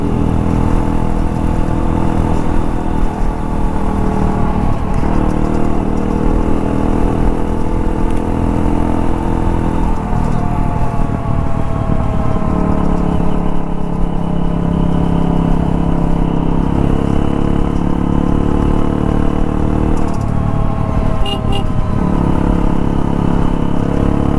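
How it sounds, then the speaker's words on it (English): A modified race-spec Hero Impulse motorcycle with a custom-made exhaust idles and revs steadily up close, its loud throaty exhaust rumbling continuously throughout. "there is a custom made exhaust on this motorcycle"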